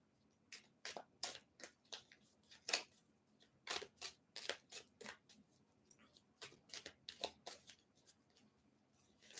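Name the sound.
tarot cards being shuffled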